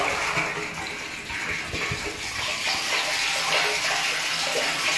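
Water gushing steadily into a rooftop storage tank through a German-made Condor float valve, a continuous broadband rush with no voices, loud and close throughout.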